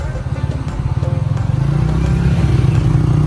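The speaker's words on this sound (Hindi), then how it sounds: "हमको रिवर्स करनी पड़ेगी अपनी गाड़ी" A car slowly reversing on a road near Lahore airport, heard as a steady loud engine drone with rhythmic low pulsing and clatter that builds slightly toward the end, close by.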